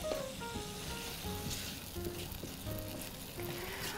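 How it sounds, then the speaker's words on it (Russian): Pears caramelizing in butter in a frying pan give a steady, soft sizzle and crackle with occasional faint utensil clinks, continuous and close, with no voices. "Буквально пару минут я карамелизую в сковородочке груши и достаю их."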